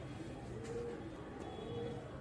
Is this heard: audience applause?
no